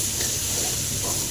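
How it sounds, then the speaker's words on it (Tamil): Greens sizzling and frying in a pan for a thuvaiyal, a steady, close hiss of hot oil with faint stirring scrapes, continuous and even throughout with no talk. "நல்லா ஃப்ரை ஆகுதுங்க. இன்னும் கொஞ்சம் ஃப்ரை ஆகணும்."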